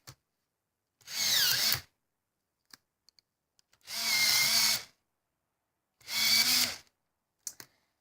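An electric sharpener grinds Guanghui Wanshui Hero colored pencils in three short, even bursts separated by quiet pauses, each close and crisp, with small clicks between.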